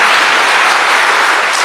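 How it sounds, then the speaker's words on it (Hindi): An audience at a spiritual gathering claps in a loud, continuous wash of applause from start to finish. "हाँ ताली बजाओ"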